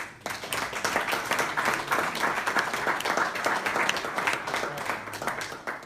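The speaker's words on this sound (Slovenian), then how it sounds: "jaz mislim, da si zaslužijo en aplavz" Sustained audience applause for a round-table panel on responsibility in healthcare, a dense, steady wash of many hands clapping that runs nearly six seconds at even loudness.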